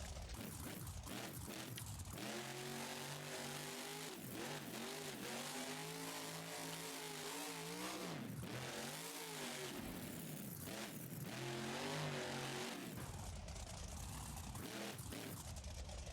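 The ThunderROARus monster truck engine in BeamNG.Drive revs hard and loud, rising and falling in repeated throttle blips and sustained roars across the whole stretch, with no talking.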